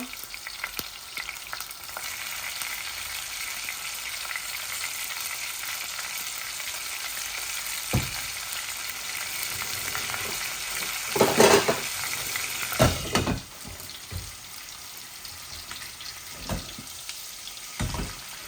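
Pangas fish fry in a pan over the heat with a constant sizzle, broken by occasional stirring scrapes and a few brief clatters and water sounds, and no one speaks.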